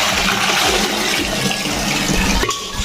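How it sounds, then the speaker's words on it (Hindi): Water gushing steadily into a cooking pot at home before rice is cooked, a loud, close, continuous rushing pour with a slight change in tone near the end and no voices. "तो पहले मैं पानी भर के काम ला करता हूँ"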